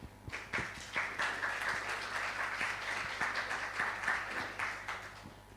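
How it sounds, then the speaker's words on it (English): Steady audience applause at a lecture event, many hands clapping at an even, moderate level for several seconds, somewhat distant and without speech. "Please give a round of applause for this event."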